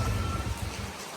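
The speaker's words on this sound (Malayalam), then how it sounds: "ഫുള്ള് മഴയിനി." Rain falls steadily as a soft, even hiss, fairly faint and continuous, with no voices present.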